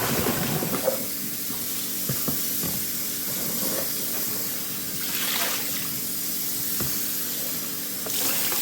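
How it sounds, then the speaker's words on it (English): Tap water runs steadily while a bowl is washed beneath it during cooking for a braised rib stew, with a continuous hiss of spray and a few faint clinks and splashes. No one speaks. "I'm going to wash the bowl real quick."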